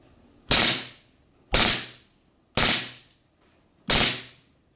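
Four sharp airsoft Glock 18c bursts, each a loud abrupt crack that rings and fades over about half a second, spaced roughly a second apart, with no voices.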